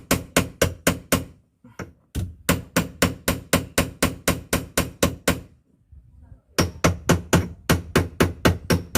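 A steering racing part for a motorbike is hammered in fast rhythmic runs of loud metallic blows, three long series of evenly spaced strikes broken by short pauses, close and dominant.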